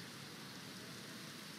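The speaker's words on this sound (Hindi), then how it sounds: "ये बारिश भी हो रहा है" Steady rain pours across an open-world landscape in Elden Ring, a dense, even hiss of falling drops with no breaks or voices.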